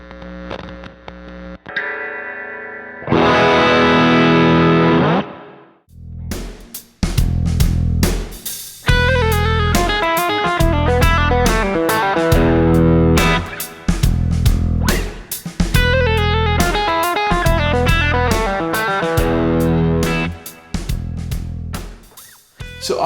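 Distorted electric guitar lick built on a double harmonic major scale, opening with sustained gritty notes and a pause, then fast runs of picked notes with choppy, stop-start phrasing, loud and alone.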